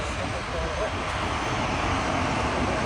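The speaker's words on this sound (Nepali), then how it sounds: "प्लेन उड्न आँटिसकेको छ।" An airplane taking off on a flight to Kathmandu, a steady, moderately distant engine roar that holds at an even level throughout, with no clear rise or fall.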